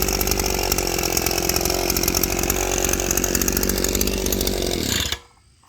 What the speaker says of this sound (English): You can hear it running. It runs like I remember my last one.